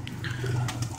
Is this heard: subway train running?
no